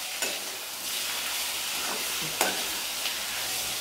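Salted tomatoes sauté in a pan for mint coriander chutney with a soft, even, nearby hiss, broken by a few brief stirring scrapes and clicks.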